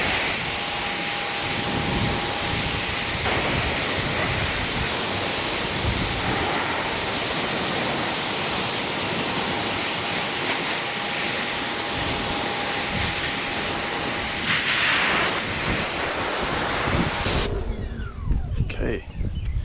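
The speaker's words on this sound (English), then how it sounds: "So let's go ahead and rinse this foam off." Loud hissing spray of water from a pressure hose rinsing foam off a car continuously, a broad steady rush that cuts off near the end.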